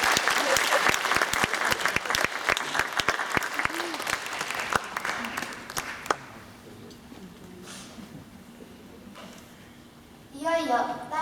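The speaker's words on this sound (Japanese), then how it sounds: "拍手をお願いいたします" Audience applause at a concert of Andean folk music in Japan, a dense wash of clapping for about six seconds that thins and fades into quiet, with a brief swell near the end.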